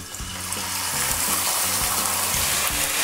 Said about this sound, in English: Now add the mutton pieces.